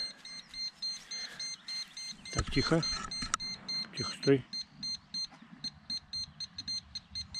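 Electronic beeping from a metal detector used by a treasure hunter on thawed spring soil, a steady series of short tones repeating throughout, with someone talking briefly over it.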